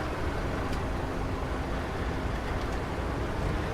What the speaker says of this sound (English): I'll actually turn the engine off on this tractor.